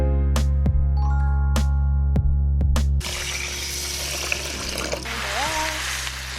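Rice is rinsed with water in a bowl, starting with a few sharp clinks of grains and vessel, then a steady close swishing and sloshing of water with brief voice sounds over it.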